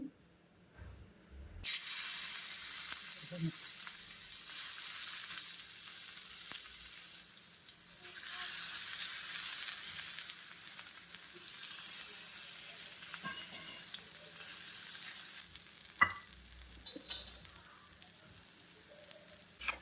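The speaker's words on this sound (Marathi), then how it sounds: "तर आता आपण ह्या फ्राय करून घेऊयात." Masala-coated vadi pieces sizzle in hot oil, a steady close-up frying hiss that starts abruptly and holds for the rest of the clip, with occasional small pops and no talk.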